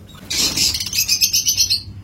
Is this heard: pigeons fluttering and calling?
yes